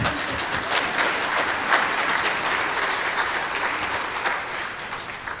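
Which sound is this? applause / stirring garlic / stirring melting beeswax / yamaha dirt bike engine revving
applause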